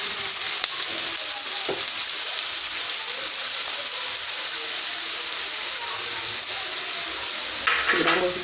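Onions and celery fry in a pan with a loud, steady hiss of sizzling oil that continues unbroken, with a few faint clinks of stirring and a little talk in the background.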